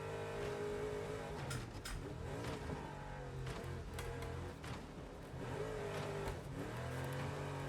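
Race car engines rev and drone in the Wreckfest 2 video game, a steady layered motor whine with shifting pitch and occasional sharp knocks.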